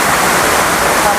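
Steady roaring rush of the Curug Paniis waterfall in Pandeglang, loud and close, a constant wash of falling water without pauses.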